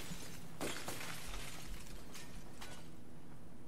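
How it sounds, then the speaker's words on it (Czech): Glass shatters sharply in the video game Battlefield 4, followed by a few smaller breaking crashes over a low background hum, fading out toward the end. "Slyšíte to sklo?"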